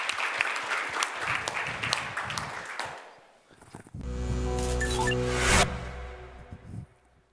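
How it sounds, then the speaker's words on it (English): Audience applause after a talk at a cryptography seminar: a dense burst of clapping that fades out, then a hum and a brief louder rustle, with no voices over it. "Round of applause."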